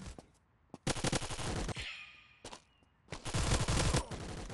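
A mobile shooter game with bursts of automatic gunfire: a single shot, then a long rapid burst, a pause with a few isolated shots, and another sustained burst, loud and close with no talking.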